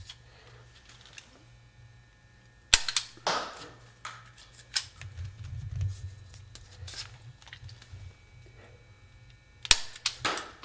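A Nerf Rebelle Diamondista blaster fires foam darts down a 40-foot range, a few sharp snapping shots spread apart with clicks and handling noise between them, no voices.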